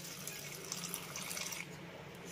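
About one and a half cups of water pouring steadily into fried spice masala in a pan, a continuous close splashing stream that thins out toward the end.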